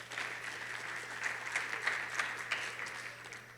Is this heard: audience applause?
yes